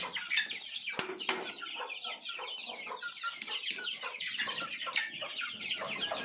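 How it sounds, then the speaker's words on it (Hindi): A crowd of chickens on an Indian poultry farm clucks busily and flaps its wings as the birds come out of the coop. The sound is close and continuous, with a sharp wing burst near the start. "ये बहुत सारे मुर्गियाँ निकल रहे, बट अभी इनको मैं बाहर हकालता"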